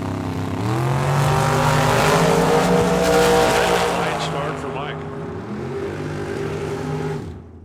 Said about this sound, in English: The dragster goes too soon.